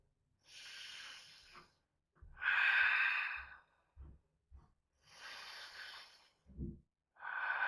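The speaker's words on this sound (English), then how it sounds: "Couple of breaths here." Slow, audible breaths in a yoga downward dog pose, several long airy exhales and inhales with short pauses between, close and fairly quiet, with a few soft low thumps.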